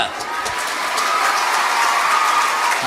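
Dense, continuous clapping from an audience at a Tamil comedy speech, sustained and fairly loud throughout.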